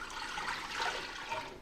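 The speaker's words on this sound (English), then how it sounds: "So I'm adding the water and the vinegar" Water and vinegar poured into a pot for pickled red onions, a close, continuous splashing gush of liquid with no talking over it.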